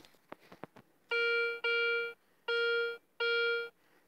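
Metal detector giving a ringing, bell-like tone over a shallow target in the field: four sustained, clear harmonic tones, each about half a second long, follow a few quick soft clicks, loud and close.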